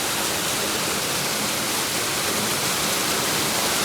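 A waterfall behind a village roars as a steady, dense rush of falling water, loud and unbroken throughout.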